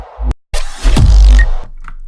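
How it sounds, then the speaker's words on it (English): Synthesized reese bass with heavy sub content, a loud gritty low tone surging and jumping sharply upward in pitch after a brief hit and gap, then cutting off. "there's one reese bass that jumps really high up"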